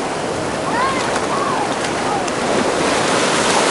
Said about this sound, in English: Wow! Ayan na yung waves!